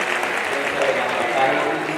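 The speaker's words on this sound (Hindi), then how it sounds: "जोरदार ताली बजाकर स्वागत करें।" Crowd applause at a Shiv Mahapuran katha religious discourse in a large gathering: a dense, continuous roar of clapping at steady loudness, with a few faint tonal sounds mixed in.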